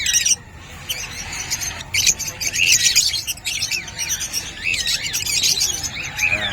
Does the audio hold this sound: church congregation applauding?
no